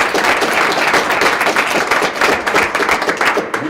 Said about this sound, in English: I will hold for applause on that.